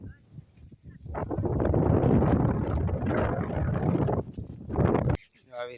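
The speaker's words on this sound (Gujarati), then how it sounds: "બહુ પવન છે" Strong wind sweeping across open farm fields during a sesame harvest, loud rushing buffets against the microphone for several seconds, with a voice speaking briefly at the end.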